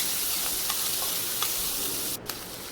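Garlic sautéing in a pan for a brinjal curry gives a steady, close sizzle, with a couple of soft stirring clicks near the end.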